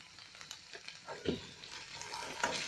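Taro pieces fry with turmeric and salt in a pan alongside elephant apple for an Assamese village dish, a steady close sizzle broken by several scraping stirs of the spatula, with no talking.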